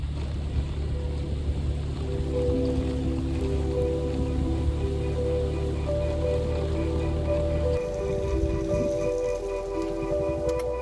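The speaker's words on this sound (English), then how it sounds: "Rain slowly covered the windshields" Rain falls steadily on a car windshield on fog-covered mountain roads in North Bali, a constant dense patter over a low engine hum with a faint sustained tone, no voices.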